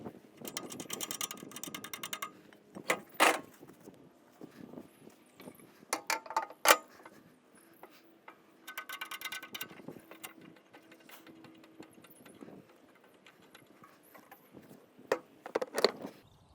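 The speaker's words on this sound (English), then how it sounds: "I'm going to show you how simple it is to change one of these cartridges over." A cartridge is swapped out on a C27/C34 cylinder mower. Sparse metallic clicks, ratcheting and clunks come in short bursts between quiet pauses, close but fairly soft, with no speech.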